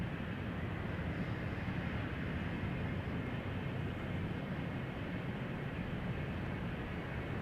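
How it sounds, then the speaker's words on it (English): A KLM Embraer 190 jet taking off at Amsterdam Schiphol Airport, a steady, broad engine roar holding for several seconds at a moderate distance, with no voices. "we have a KLM Embraer 190 to Zagreb taking off here in the foreground"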